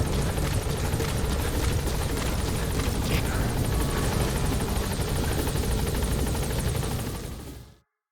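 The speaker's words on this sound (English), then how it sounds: "Support helicopter has arrived." Support helicopter arriving in the Metal Gear Solid V video game, a steady loud rotor thrum with rapid blade chop that holds evenly before cutting off abruptly near the end.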